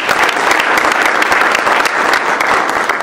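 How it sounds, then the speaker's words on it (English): Audience applause honoring a community planner at a corridor conversation event about West Trade Street and Beatties Ford Road; steady, dense clapping fills the whole stretch at even loudness. "Let's give Jennifer Cole a round of applause."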